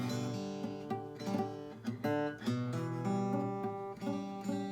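Acoustic guitar chords strummed by a beginner, sounding somewhat muddy and unclear, with several uneven strums ringing on alone over about five seconds.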